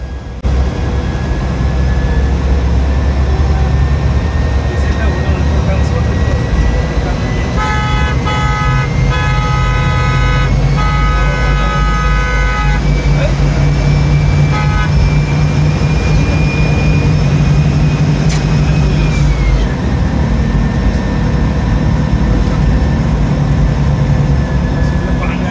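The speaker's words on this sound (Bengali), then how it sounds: "এবার চলুন এই বাসের ইঞ্জিনের যে আওয়াজ এবং কেবিনের ভেতরের যে নয়েজটি রয়েছে সেটি একটু শুনে আসা যাক।" An AI-designed intercity bus on the road from Dhaka to Khulna gives a continuous engine drone and cabin rumble, with a thin, jet-like whine rising and falling over the steady low roar.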